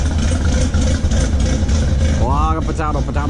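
A modified car with an aftermarket cam and Corsa exhaust idles steadily at a Cars and Coffee meet, a deep, even rumble with a brief rise near the end.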